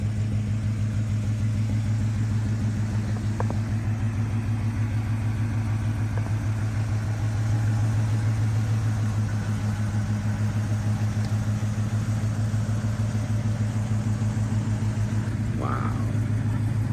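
A 1977 Pontiac Trans Am SE idles steadily nearby, its low, even rumble holding for the whole stretch with faint background noise and no speech over it.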